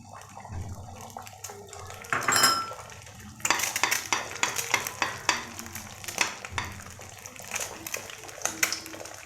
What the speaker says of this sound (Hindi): मैश करने के बाद हम इसको अंडे को फ्राई करेंगे।